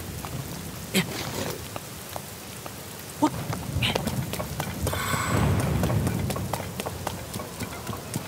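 Rain falls in The Legend of Zelda: Tears of the Kingdom, a steady patter with scattered sharper drop-like ticks and a swelling wash near the end. It is moderately quiet and continuous.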